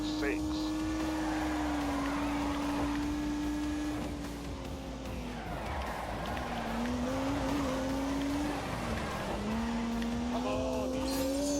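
A turbocharged 3-litre straight-six car in The Grand Tour racing game accelerates hard, its steady engine drone climbing in pitch as it revs, with brief tyre squeal as it corners.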